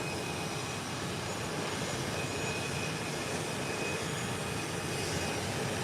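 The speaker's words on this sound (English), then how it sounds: "There goes the Beechcraft 1900 on the runway." A Beechcraft 1900 twin turboprop rolls along an airport runway under low clouds, producing a steady, broadband engine roar heard from a distance with no break.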